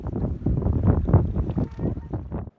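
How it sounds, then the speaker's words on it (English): Strong wind buffets the microphone on a boat trip along the Bow River, heavy low gusting roar in uneven surges, close and loud, cutting off abruptly at the end. "If I really opened the sound, all you could hear was the wind was blowing."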